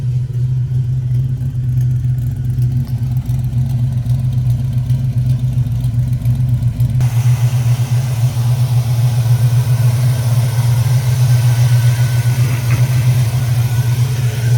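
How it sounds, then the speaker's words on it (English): A 1967 Ford Fairlane XL 500 idles steadily in a low, even rumble heard from outside the car, with a shift in background tone partway through. "Let's listen to this thing purr from the outside."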